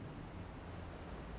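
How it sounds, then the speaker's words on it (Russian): Tidal water churns in a large whirlpool before high water, a dense continuous roar of rushing, surging water with no distinct events and no voices. "Только перед большой водой можно услышать подобный шум, когда в воде появляется огромный водоворот."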